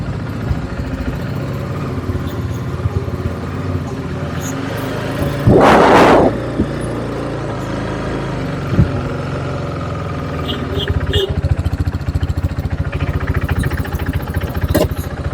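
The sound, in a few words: KTM RC390 motorcycle engine running after overhaul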